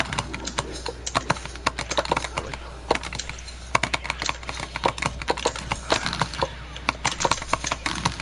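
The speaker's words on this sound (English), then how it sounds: "the buttons are Crown 202s, so that's why they sound like keyboard buttons" Sharp, clicky arcade buttons, Crown 202 type on a home-built versus-case controller, tapped in rapid irregular bursts like keyboard typing, close and clear with no talk.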